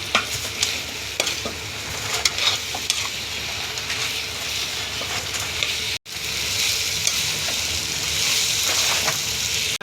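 Chilli chicken stirred in a pan with chilli sauce, soy sauce, pepper powder and salt, a steady close sizzle broken by scraping stir strokes, pausing briefly midway then resuming louder.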